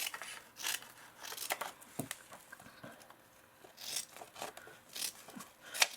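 Scissors snip through ribbon at an angle, several short crisp cuts spread across the stretch with quiet rustling and handling sounds between, close and fairly faint.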